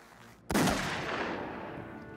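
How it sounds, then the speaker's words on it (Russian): A sudden loud gunshot blast in a shootout at a bank, with a long ringing decay and echo trailing behind it; no speech is heard. "Стрельба!"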